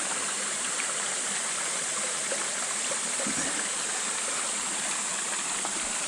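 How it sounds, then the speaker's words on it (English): Steady rushing of flowing water near the Old George Dam, a continuous broadband wash that stays even and moderately close throughout, with no voices. "Let's try and get a bit of a close-up of some water."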